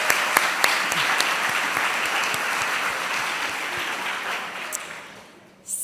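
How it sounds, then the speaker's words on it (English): An audience at a Year 13 school graduation ceremony at a golf club breaks into warm, continuous applause, with a few sharp claps standing out before it tapers off. "So if we could give her a round of applause."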